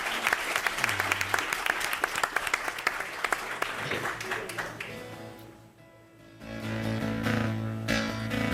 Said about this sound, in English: please give a big round of applause for Scylla Chance and Mike McNamara